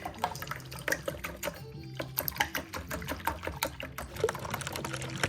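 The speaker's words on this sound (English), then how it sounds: "I'm gonna whisk this up really good with my big whisk" Eggs whisked in a bowl with a big whisk for mini sausage quiches: fast, continuous wet clattering strokes close up, with a brief pause midway, and no talking.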